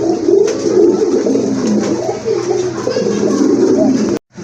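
A pair of red-marked domestic pigeons kept for sale coo close to the microphone, a loud continuous throaty warbling rising and falling for about four seconds before cutting off abruptly.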